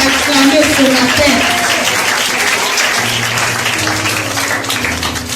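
A church congregation at an ECODIM EEVD-CI 2020 gathering breaks into loud, sustained applause and cheering, dense clapping throughout with voices and a speaker talking over the crowd.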